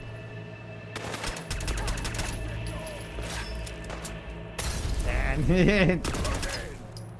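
Rapid bursts of automatic turret gunfire in the Fallout London video game rattle out in dense volleys, with a brief spoken word and other combat sounds layered over the shooting.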